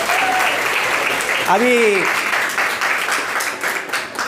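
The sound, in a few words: audience applause at girls college prize distribution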